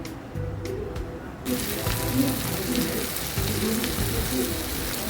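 Chopped tomatoes sizzle in hot oil with chopped onion and garlic for a home-style okra bhaji, a steady crackling fry that grows louder after a brief quieter start and carries on throughout.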